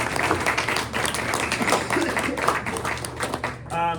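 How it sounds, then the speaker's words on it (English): A luncheon audience applauds the athletic directors, steady dense clapping filling the room for about four seconds, with a short voice heard near the end. "Let's give them a round of applause."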